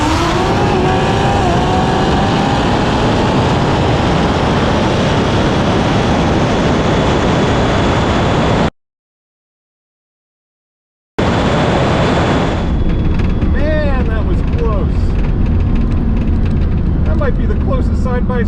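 Tesla Plaid and a big-tire Firebird racing side by side down a quarter-mile drag strip, loud roaring engine and wind noise throughout, cut by a brief silent gap, then rising whine and passing vehicle sound with talk over it.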